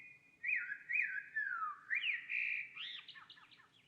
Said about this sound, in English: Birds are a bit noisy, aren't they?